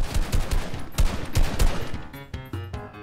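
Rapid gunfire in the video game Fortnite, fired at an enemy in a no-building match, with dense bursts of shots that come close and loud across the whole moment, then thin out toward sharper separate cracks near the end.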